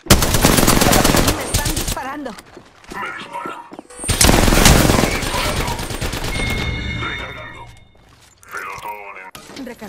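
Rapid bursts of gunfire from a shooter video game, loud and close, breaking into clusters of shots with pauses, while a player talks over the action.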